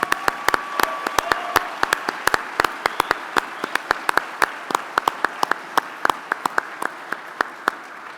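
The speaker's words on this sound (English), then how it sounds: "Big applause." An audience at a national defense awards ceremony claps, sharp separate hand claps in a fairly sparse steady rhythm across a large room, with faint murmur underneath.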